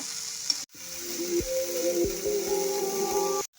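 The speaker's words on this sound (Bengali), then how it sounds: "সজনে ফুলটাকে আমি হালকা করে ভেজে নেব, আঁচটাকে মিডিয়ামে দিয়ে দিয়েছি।" Drumstick flowers with a little turmeric sizzling in a pan over medium heat, a close continuous fry with several low knocks from stirring and a faint tonal hum, no voices.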